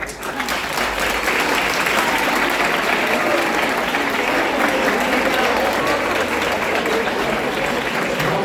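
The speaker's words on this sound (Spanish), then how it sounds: "Un aplauso para él." Dense, steady applause from a workshop audience for a participant, many hands clapping together at an even loudness throughout with crowd murmur mixed in.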